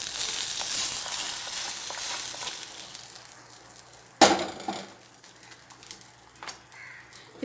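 Mustard seeds, urad dal, fenugreek and curry leaves sizzle in hot oil in a pan with a bright, hissing fry that fades gradually, broken by a sharp clatter partway through, then quieter crackling.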